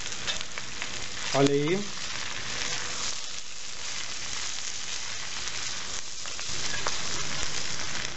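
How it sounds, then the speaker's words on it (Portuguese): Eggs hit a hot pan while cooking soy tropeiro, giving a steady crackling sizzle that stays fairly loud throughout, with a brief spoken comment near the start. "Agora eu acrescento os ovos."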